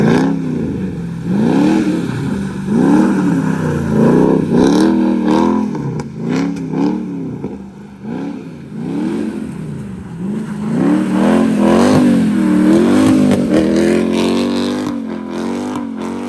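A Mercedes CLK55 AMG with a manual swap revs and surges repeatedly in the rain, rising and falling in pitch as it accelerates, loud and close throughout.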